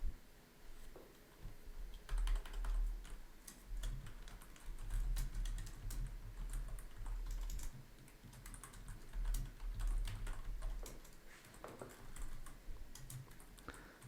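Typing on a computer keyboard, a steady run of quick, light key clicks close to the microphone, with uneven rhythm and brief pauses between bursts, alone without any voices.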